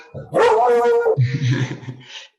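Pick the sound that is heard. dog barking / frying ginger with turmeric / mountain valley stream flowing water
dog barking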